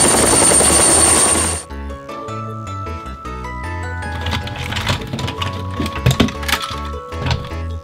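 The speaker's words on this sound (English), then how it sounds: "Red helicopter." A brief whirring toy helicopter noise plays loudly, then gives way to plinking electronic toy tones.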